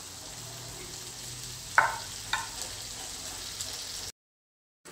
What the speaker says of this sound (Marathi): झाकण ठेवून 2 ते 3 सेकंद आपल्याला परतून घ्यायची फक्त।